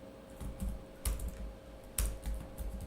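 Someone types on a computer keyboard while writing Python code. A handful of quiet, close key clicks come in small clusters against a faint background hum.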